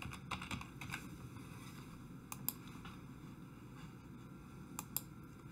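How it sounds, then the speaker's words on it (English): Scattered keystrokes on a computer keyboard while typing a search into Google, a few quick clicks at a time separated by pauses, heard close over a steady low room hum with no talking. "Go to Google and type in Amazon Flex."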